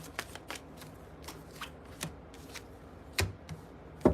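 Tarot cards being shuffled by hand in short, crisp riffling bursts, several quick flicks spaced irregularly, close and fairly quiet with no talking.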